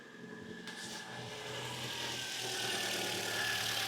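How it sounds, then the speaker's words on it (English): A car engine idles steadily with a low hum and a faint whining belt after an alternator replacement, rising slightly in loudness, with no voices. "that vehicle is now ticking over and the belt is running nice and true"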